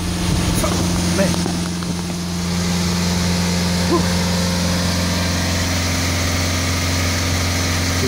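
A BMW E90 diesel engine is held at a steady 2,500 rpm during DPF cleaning, a loud, constant droning hum with a strong low tone that holds evenly throughout.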